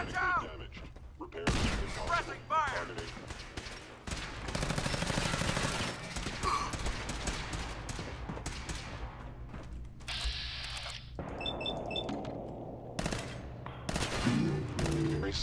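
Gunfire and combat in Fallout 4, with bursts of shots and mechanical clatter mixed with game effects and a voice calling out amid the fight, moderately loud throughout.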